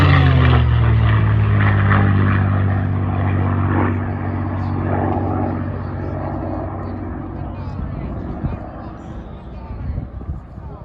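A WWII North American Mustang with a Merlin engine roars past at an air show, a loud propeller drone that slowly fades into the distance while people talk nearby.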